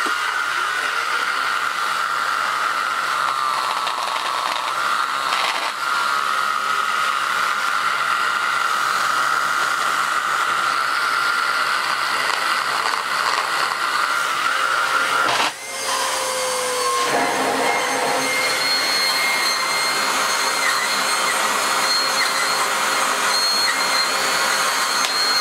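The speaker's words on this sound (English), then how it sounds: "we have this little mini turbo head, which the last time I used it sounded pretty terrible" A Lux 1 Royal D820M vacuum cleaner runs with its mini turbo head, a loud, steady whine and rushing airflow that holds for about twenty-five seconds, with a brief dip and a pitch shift partway through.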